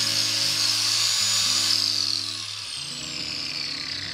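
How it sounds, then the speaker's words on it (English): An angle grinder fitted with a wire brush attachment cleans a reclaimed wood beam, giving a loud, steady high-pitched whine that drops and wavers partway through. "I used a wire brush attachment on my side grinder to see what it would look like"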